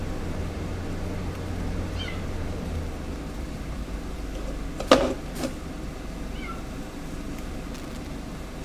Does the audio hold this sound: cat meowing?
yes